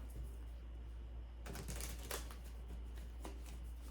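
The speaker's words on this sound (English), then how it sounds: "I'm gonna do one more shuffle." Quiet room tone, then tarot cards riffle and slap together in a few quick crisp bursts, close up, over a low steady hum.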